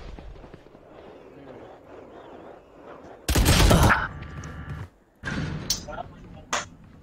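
Gunfire in the video game Valorant: bursts of loud, close shots, one sustained volley then a gap and a second rapid burst ending in a sharp final crack, with a voice talking under the first seconds.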